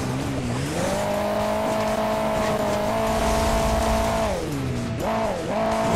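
A formula race car's engine in Hill Climb Racing 2 revs and climbs in pitch, holds a loud steady whine, then dips and rises again in quick shifts, heard alone throughout.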